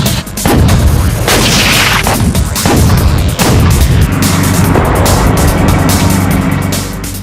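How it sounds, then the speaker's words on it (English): Modern battle tank main gun firing amid loud, dense battlefield noise: several sharp, heavy booms burst through a continuous rumbling engine and track roar, with no talk. "So modern battle tanks can hit targets several miles away with pinpoint accuracy."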